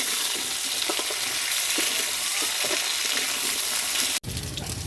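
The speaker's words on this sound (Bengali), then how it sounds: "হালকা একটু ভেজে নিতে হবে" Potato pieces frying lightly in a pan for a fish curry, a dense, even sizzle close up with a few soft stirring clicks, briefly cut off near the end.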